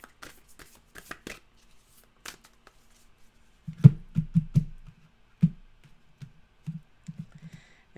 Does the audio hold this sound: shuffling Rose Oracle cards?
yes